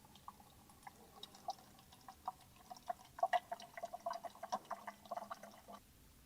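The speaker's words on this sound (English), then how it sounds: "And then inject purified water until the bottle is full." Purified water is poured into the solution bottle of a NUBWAY Hi Skin+III 9-in-1 skin care machine until it is full: a faint, close run of soft trickles and drips that grows busier midway, with no talking.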